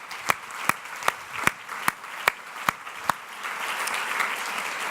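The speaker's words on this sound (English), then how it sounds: "let's give him a huge round of applause." A convention panel audience starts with several distinct, evenly spaced claps that quickly swell into continuous applause.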